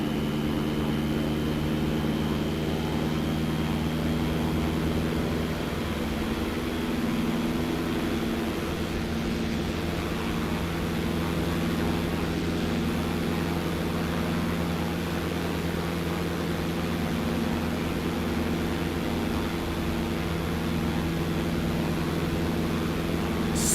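Steady propeller-engine drone of airplanes in a flight simulator game, a constant low hum with faint higher whine running unbroken and loud throughout, with no talking.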